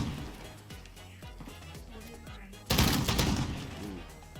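Shotgun fire in the video game Modern Warfare starts as a low, rumbling clatter and then a loud, sharp blast hits near the end and fades quickly, with no talking.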